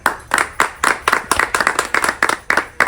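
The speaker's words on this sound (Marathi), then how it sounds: "परत एकदा टाळ्या" A crowd claps at a fans' birthday celebration in a hotel, producing brisk rhythmic applause that is loud and close, with a steady beat of hand claps and little else.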